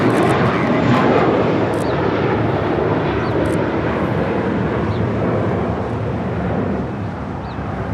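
A JetBlue Airways Airbus A321 jet departs from Los Angeles International Airport, its engine roar a loud, broad, sustained rumble close by that eases slightly toward the end.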